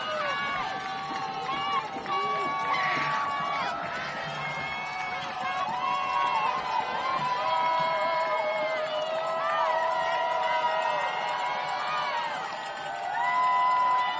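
A football stadium crowd at a high school game roars on a big third down, a sustained loud mass of cheering and shouting voices with whoops rising over it throughout.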